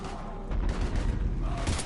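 Gunfire during a heavy firefight in Mass Effect 3, a dense, rumbling barrage of booming shots that fills the whole moment.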